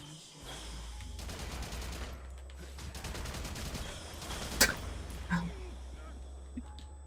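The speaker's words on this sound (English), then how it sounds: "Oh, that guy's got a minigun." Minigun fire in the video game Haze: a sustained, rapid rattling stream of shots at moderate distance under a low steady hum, broken into several bursts with a couple of sharper impacts near the end.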